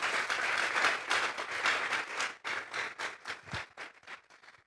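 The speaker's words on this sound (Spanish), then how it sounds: "Vamos a darle un fuerte aplauso pues al Señor." A church congregation bursts into loud applause that gradually thins into scattered, separate claps before fading out.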